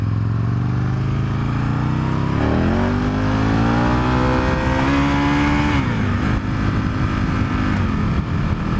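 A motorcycle with suspension set up for a lighter rider, accelerating hard through the gears and doing wheelies: a loud, close engine rising in pitch, easing briefly between shifts, with a continuous roar and no talking.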